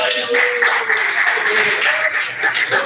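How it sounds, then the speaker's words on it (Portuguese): A church congregation at a worship service applauds together, dense steady clapping with voices mixed in underneath throughout. "Vamos ver, irmão Lucas, salve palmas para Jesus"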